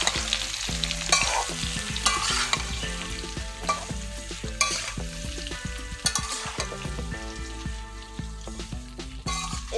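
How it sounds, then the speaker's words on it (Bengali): Mango pieces for pickle are tossed and turned in a wok of hot oil, a continuous loud sizzle layered with frequent metallic spatula scrapes and clanks in an irregular stirring rhythm. "আমগুলোকে উল্টে পাল্টে ভালো করে কষিয়ে নিচ্ছি।"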